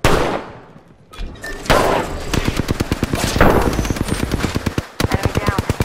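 Loud, close automatic gunfire in Apex Legends, with a few separate shots and then sustained rapid bursts that pause briefly and resume.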